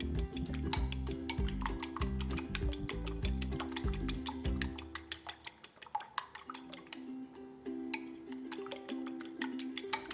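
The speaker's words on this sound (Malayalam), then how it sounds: "എന്നിട്ട് നന്നായിട്ട് ഇതൊന്ന് ബീറ്റ് ചെയ്തെടുക്കുക." Eggs beaten with a utensil in a bowl for baby food, producing rapid, steady clinks and taps against the bowl, with a low droning tone beneath during the first half.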